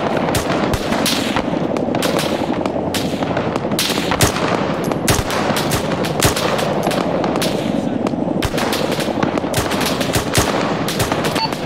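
Dense machine gun fire in an Arma 3 infantry battle plays as continuous loud rattling bursts and scattered shots, with the clatter layered thickly across the whole stretch and voices faintly present underneath.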